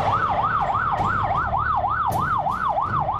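A police car siren wails in fast, regular up-and-down sweeps, loud and close, repeating steadily with other traffic noise beneath and no talk over it.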